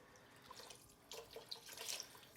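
Turkey broth pours from a quart container into a cooking pot, making a steady liquid splashing stream close by that grows a little fuller as it fills.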